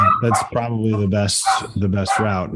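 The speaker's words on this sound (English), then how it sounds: "that was my dog" A boxer dog barks and yips several times close by, the sharp barks overlapping a person who keeps talking through them.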